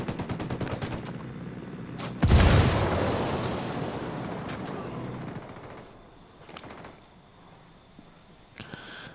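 Ghost Recon Wildlands video game combat, with a rattle of rapid gunfire followed by a heavy grenade blast that rumbles and fades, then a few scattered shots in the distance.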